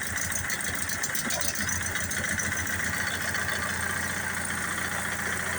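A 4 kW Onan generator engine runs steadily with its choke still warming up, a continuous mid-pitched drone with faint irregular knocking, close and even throughout with no talking.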